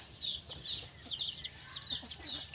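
Chickens cluck repeatedly and close by in a rural yard on the Lao side of the border in the morning, with a steady, busy rhythm over a low background.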